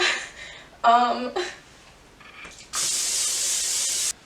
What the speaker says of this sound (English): I need to spray this first.